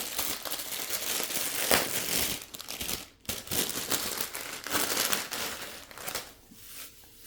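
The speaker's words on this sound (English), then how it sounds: "Okay, some shredded paper." Shredded paper is crinkled and pulled apart up close, giving a continuous crisp rustling and crackling with brief pauses and no talk over it.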